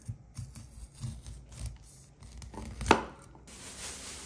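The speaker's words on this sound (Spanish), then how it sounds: "vamos a desgranar el desgranado elote" Kernels are cut off a corn cob with a knife, making a series of soft, close scraping and crunching strokes. One sharper crackling cut stands out partway through, against a quiet kitchen background.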